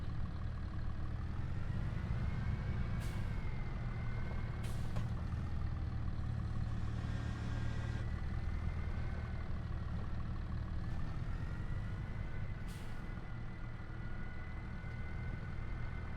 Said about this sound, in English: the tractor of this size can turn on such a small diameter, a small turning circle